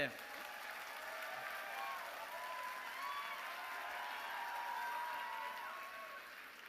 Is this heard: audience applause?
yes